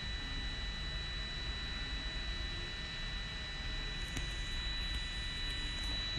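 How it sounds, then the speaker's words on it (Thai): A DJI Mavic Pro drone flies nearby with a steady, unbroken whirring whine and constant high motor tones over a broad hiss. "เดี๋ยวเราเอาเจ้าโดรนตัวนี้ลงมาดูกันดีกว่า"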